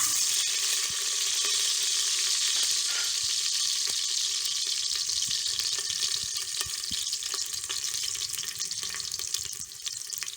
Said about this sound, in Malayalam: ഇനി ഇതിലോട്ട് നമുക്ക് കുറച്ച് വെളുത്തുള്ളി ഇട്ട് കൊടുക്കാം